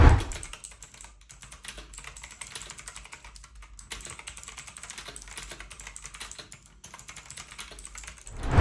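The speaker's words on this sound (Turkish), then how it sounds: "Bakalım klavyemiz nasıl ses çıkartıyormuş bunu görelim." Steady, fast typing on a clicky Havit gaming keyboard, keys clattering continuously at close range with brief pauses between bursts.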